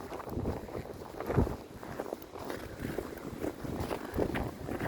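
Gusty wind buffets the microphone with low rumbling bursts, along with faint rustling and footsteps outdoors.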